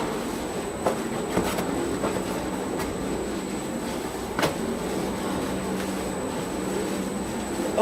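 A pu-erh tea kill-green machine runs with a continuous rumbling, grinding friction noise and a thin steady whine, broken by periodic clicks and knocks.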